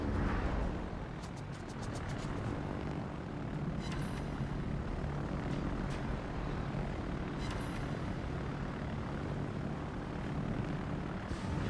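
Aircraft engines drone steadily through the World of Warships naval video game as carrier planes fly, a continuous propeller roar with a few brief high clicks layered over it and no talking.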